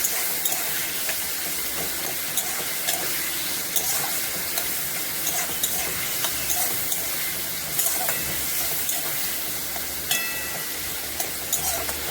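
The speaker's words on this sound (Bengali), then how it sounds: "এবার দেবো পেঁয়াজ কুচি।" Chopped onion sizzles steadily in a hot pan of oil for a shrimp and taro-stolon curry, a continuous close frying hiss with occasional stirring and no voices.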